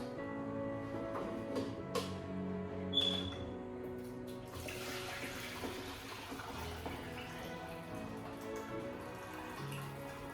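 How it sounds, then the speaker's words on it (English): Water pours and splashes steadily into a sink as boiled potatoes are drained from a saucepan, a running, trickling stream with a few clinks of metal over a faint hum. "so I'm going to drain the water out"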